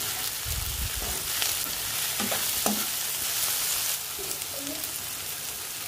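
Chicken curry with curry leaves frying in a pan as it is stirred and mixed, a steady sizzle close by with scraping strokes of the spoon through the cooking.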